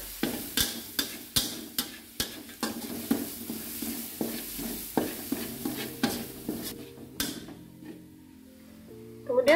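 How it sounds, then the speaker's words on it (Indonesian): Chopped garlic sautés in vegetable oil in a wok, a soft steady sizzle broken by about a dozen sharp, regular clanks of the spatula stirring, close and alone without talk. "Lalu kita masukkan bawang putih yang sudah kita cincang, ini kita tumis sampai harum aja."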